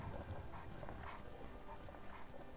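Dogs in the Skyrim video game growl and whimper faintly under dense game sound, with clip-clop hoofbeats and steady ambient noise filling the mix.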